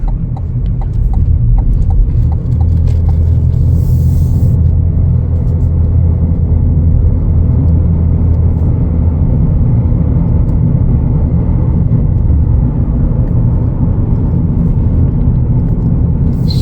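A 2025 Chevrolet Equinox LT FWD with only 57 miles drives and turns left, with a steady loud low road rumble and cabin drone throughout and no talking.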